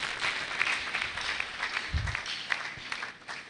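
A conference audience applauding steadily, many hands clapping in a dense patter that stays loud, then begins to thin toward the end.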